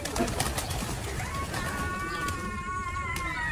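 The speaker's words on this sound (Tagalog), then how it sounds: "Grabe yung mga birds sa huli." Birds call in the Bohol countryside, with pigeon- or dove-like coos and other birdsong over a constant outdoor background hiss and a few short sharp knocks near the start.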